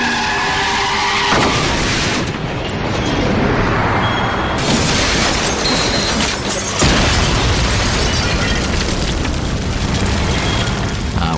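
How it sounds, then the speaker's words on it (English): A large house explosion staged as a special effect on the Smallville set: a loud, sustained roaring blast with dense rumbling debris and crackle that shifts in intensity partway through, filling the whole stretch without talk. "we had probably the largest explosion that we've had on Smallville"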